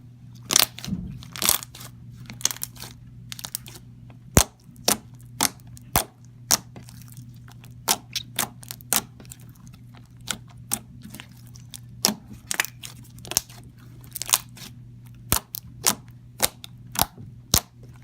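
Thick, stretchy, glossy slime is squished with sharp, crisp popping clicks that come in irregular bursts over a faint steady hum, close and fairly quiet, with no voice.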